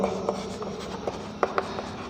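Chalk or marker scratching across a classroom board during a chemistry lesson, with short rhythmic strokes and a few sharper taps, close and fairly quiet, with no talking.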